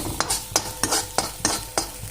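Fresh coconut, ginger, garlic and coriander paste roasting in oil, a continuous sizzle punctuated by regular spoon scrapes against the pan, roughly every third of a second, close and clear.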